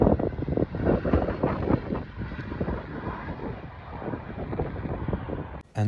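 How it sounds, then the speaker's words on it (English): A Czech Airlines Boeing 737 airliner passing overhead at Prague, a loud broad engine roar with wind buffeting on the microphone, steady throughout and cut off abruptly at the end. "there was some regular 737 from the Czech Airlines"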